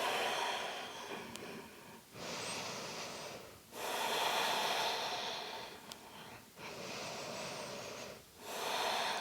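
Slow, deep yoga breaths during a hip-opening session, long airy inhales and exhales that alternate steadily with short pauses between them, soft and close with no talking.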